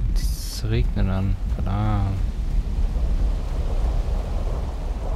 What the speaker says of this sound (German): Es regnet an.